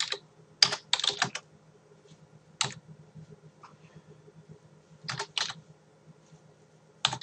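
Typing on a computer keyboard, close and fairly quiet, in short bursts of quick key clicks separated by pauses.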